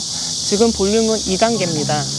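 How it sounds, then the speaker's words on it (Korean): A steady, shrill buzz of cicadas drones throughout, while a person talks over it in the foreground. "갑자기 또 매미가 울기 시작하는데요"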